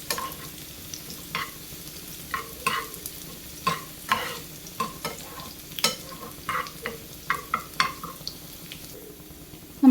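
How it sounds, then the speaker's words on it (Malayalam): Onions and chilies frying in ghee for a Kerala tempering, a low steady sizzle broken by a series of sharp spoon stirs and scrapes against the pan, close and fairly quiet, no talk. "നമ്മുടെ ഉള്ളി മുളകൊക്കെ മൂത്ത് വന്നിട്ടുണ്ട്."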